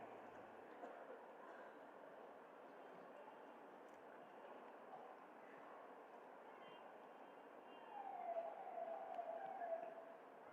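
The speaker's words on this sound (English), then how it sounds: "we could be really purified if we hear these sirens" Sirens sound at Govardhan near Vrindavan, India, over a steady wash of crowd and outdoor ambience, with a clearer wavering siren tone rising from about eight seconds on. The noise runs continuously and sounds moderately distant.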